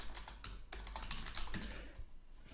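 Typing an attribute name on a computer keyboard, a quick run of close, crisp keystrokes in an irregular rhythm that slows near the end.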